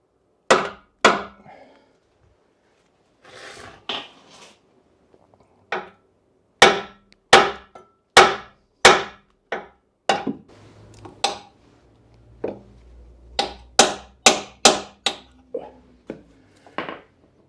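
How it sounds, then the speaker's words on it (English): Sharp metallic hammer blows strike a seized car exhaust bolt while back boxes are removed from a V8, loud close impacts in irregular bursts, several rapid strikes clustered toward the end. "2 blows with a hammer after I put the camera down, it sprung apart"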